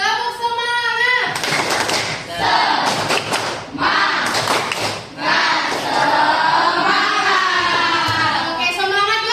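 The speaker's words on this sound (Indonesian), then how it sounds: "Oke, tepuk semangat ya." A group of children performs a rhythmic spirit clap during a classroom ice-breaker, with bursts of loud collective clapping and chanting alternating with a teacher's voice.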